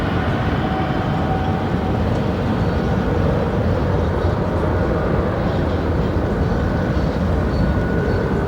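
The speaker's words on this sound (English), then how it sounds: "Those of you who are interested, here's a little bit of the train action going on here." A train passes close by near O'Hare International Airport, giving a steady, loud low rumble and clatter that holds at an even level for the whole stretch, with faint high tones above and no talking.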